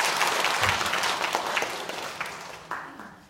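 A church congregation applauds after a choir hymn: a dense burst of clapping that starts full and gradually thins and fades, with a few louder scattered claps near the end.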